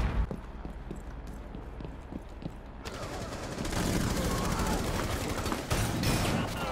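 Sustained gunfire in the tactical shooter Rainbow Six Siege, quieter shots at first and then a loud, dense burst of rapid automatic fire that fills the rest of the moment.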